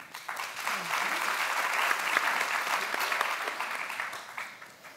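Audience applause at an artists' prize talk in Boston, a steady sustained clapping from a seated crowd that holds for the full length and tapers slightly at the end.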